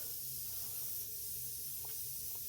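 A spray gun lays a light coat of paint on a Lancer Evo 5 in a garage, giving a steady close hiss that holds on throughout.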